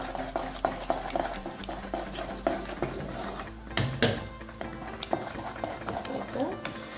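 Meat, okra, garlic, onions and dill are stirred in a pan with a wooden utensil, giving repeated close scrapes and knocks against the metal over a low sizzle, with one louder clatter midway.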